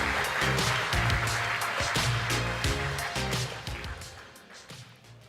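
Conference audience at a tech summit gives applause, a moderate rippling clatter of many hands that gradually thins and fades toward the end, with low thumps underneath.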